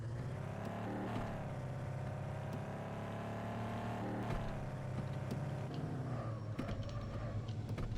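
A car engine drives steadily in the Wholesaler Simulator video game. The low, continuous motor drone holds a fairly even pitch throughout, with slight shifts in revs, and no talk is heard over it.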